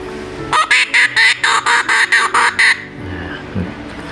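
A homemade bamboo rat lure call blown in a rapid run of about eleven short, bright squeaky bursts, evenly spaced and close up, then stopping.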